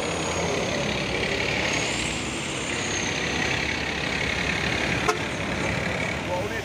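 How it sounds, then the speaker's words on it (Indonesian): A CPO tanker truck rolls past on a road, its engine rumble and tyre noise holding steady at close range, with a brief sharp click near the end and faint talk in the background. "ini truk tangki CPO pemain Indo 500"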